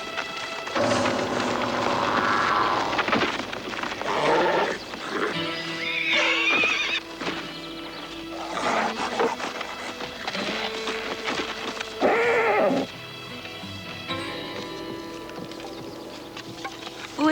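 Horses neighing and whinnying several times, loud and near, with hooves clip-clopping between the calls.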